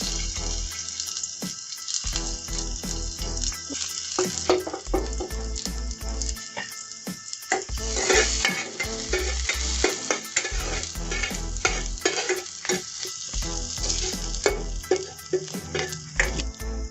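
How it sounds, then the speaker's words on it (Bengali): Steady sizzling of onions frying in hot oil, with occasional stirring and scraping sounds, continuous and close throughout. "তেলটা গরম হলে এর মধ্যে পেঁয়াজ কুচি দিয়ে দিচ্ছি"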